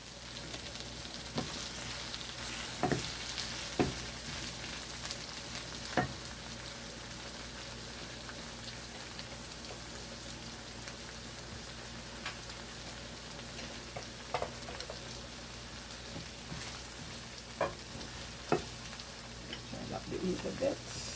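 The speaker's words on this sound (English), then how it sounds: "I like my onion just to slowly saute" Onion slowly sautéing in a pan, a soft, continuous low sizzle with scattered crackles and occasional utensil taps, fairly faint throughout.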